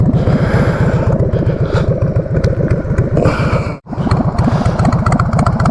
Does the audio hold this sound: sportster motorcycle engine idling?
yes